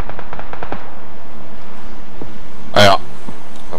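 Gunfire in the battle-royale game PUBG: a single sharp burst of shots lands mid-clip, preceded by a few faint distant pops, all under a man's conversation during a duo match.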